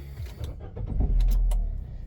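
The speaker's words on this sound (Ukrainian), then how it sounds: "Зараз запустимо двигун" A 2010 Nissan Tiida with a 1.6 engine and automatic gearbox cranks and catches, a short loud starter whir rising into a low idle rumble, close up with no talking.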